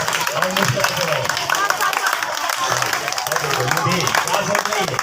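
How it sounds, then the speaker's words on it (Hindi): Schoolchildren clap together in a public school classroom, a steady, dense patter of many small hands that runs the whole time, with voices talking over it. "ताली बजाओ, थैंक यू हो और मुस्कुराते रहो।"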